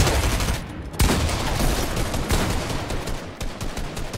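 Rapid SMG gunfire in Fortnite competitive late-game arena play: dense, sustained bursts of shots that run almost without a break for several seconds, loud and close.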